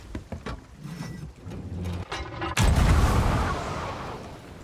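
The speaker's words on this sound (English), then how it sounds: "so my cannon shot was nowhere near what it was supposed to be" A cannon fires from a ship in a pirate-style naval video game: a single loud boom, then a long rumbling wash that slowly fades, after a stretch of scattered clatter and game noise.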